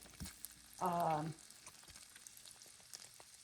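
Shrimp fry in a pan of butter and olive oil with a soft, steady sizzle, faint and close, briefly covered by a short burst of voice.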